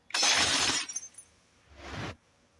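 Glass shatters in a loud, bright crash, followed moments later by a second, softer burst of breaking glass, with no voices over either.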